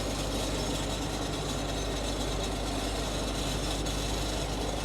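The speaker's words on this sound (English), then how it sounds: "we're cutting grass, first grass of the season" A tractor mows grass on the season's first cut, a steady loud engine drone with a low rumble and rattly mechanical clatter running without pause and without talk.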